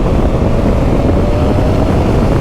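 A motorcycle engine surges at about 5,000 revs, a loud, steady, broadband roar buffeted by heavy wind noise, with no talk over it.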